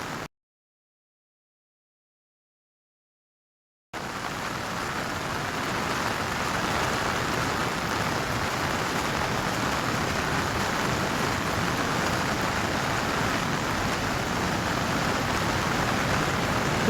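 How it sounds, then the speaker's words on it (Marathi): Heavy monsoon rain pours down with strong wind during flooding in western Pune district, a dense, loud, unbroken roar that starts abruptly after a few seconds of silence and continues steadily. "पावसासोबत वाऱ्याचं देखील प्रमाण जास्त प्रमाणामध्ये आहे"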